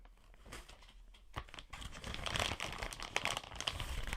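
A plastic bag holding trolling-motor rudder parts is opened and rummaged, giving close, crinkly rustling and tearing bursts that build and continue across the few seconds without any talking.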